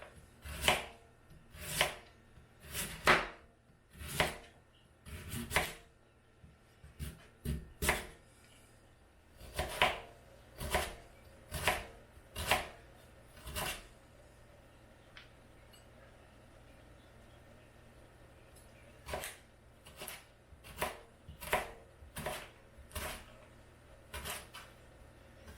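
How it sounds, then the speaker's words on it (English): Knife chopping celeriac on a board in quick sharp knocks, several clusters of rapid cuts separated by short pauses, close but fairly quiet, with no speech. "And then we'll finally chop the celeriac."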